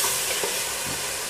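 Chicken with ground green chillies fries in a pan, a steady broad sizzle and hiss with faint stirring scrapes, close and continuous over a short moment without talking.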